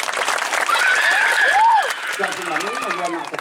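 Audience applause at a live comedy show runs dense and steady, loud and near, with laughter and voices mixed in over it.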